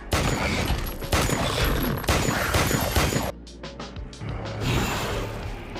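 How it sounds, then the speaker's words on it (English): A burst of gunfire rattles off in rapid dense volleys, loud and close for over three seconds, then drops to a quieter stretch of scattered clicks and a low rumbling tail. "Without hesitation, she fired a burst."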